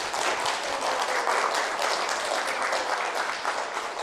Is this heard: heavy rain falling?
no